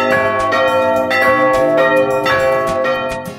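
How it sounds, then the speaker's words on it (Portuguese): Three church bells ring loudly and close in a repeating pattern of overlapping strikes, their tones sustaining and blending together. "Os sinos podem ser acionados separados, somente dois, ou os três juntos, de acordo com a ocasião a ser sinalizada."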